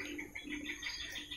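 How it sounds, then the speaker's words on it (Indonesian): A zebra dove or spotted dove perched in an aviary gives a brief, soft cooing call. The call is faint and close, with no talking. "ini ada burung perkutut, ada burung dekukur"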